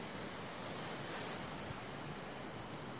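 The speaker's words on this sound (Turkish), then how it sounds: "Yanımızda akan büyük bir dere." Broad, steady rushing water from a large mountain stream flowing close by on the Lycian Way trail near Tahtalı Mountain, a continuous dense roar with no pauses and no voices.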